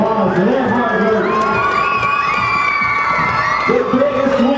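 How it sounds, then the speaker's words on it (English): Crowd at a Jamfest cheerleading competition cheering and whooping loudly for a cheer team, a dense continuous roar of shouting voices with children's shrieks, applause mixed in throughout. "give them a huge round of applause for their hard work"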